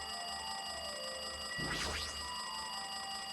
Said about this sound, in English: It's like that phone is ringing.